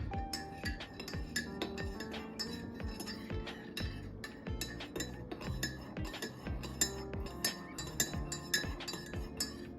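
A metal spoon stirs milky coffee in a glass, clinking against the sides in a quick, steady run of bright, close taps with no talk.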